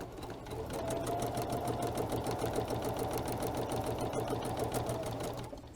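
Sewing machine running steadily for several seconds as it stitches a quarter-inch quilt seam, a continuous close mechanical whir with a rapid needle rhythm and no talking.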